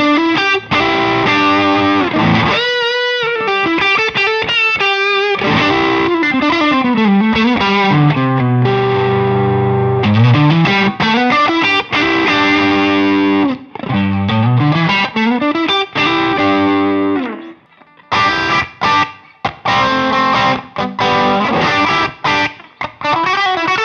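An electric guitar runs through a compressor set as a clean boost ahead of an overdrive pedal, playing driven sustained notes, bends and slides with short pauses between phrases, loud and alone.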